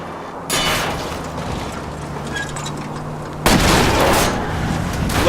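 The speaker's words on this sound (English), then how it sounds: "I'll try to shoot out his tires." Gunfire in L.A. Noire as shots are fired at a fleeing car's tires, with sharp reports over a running engine drone, and a louder burst near the end.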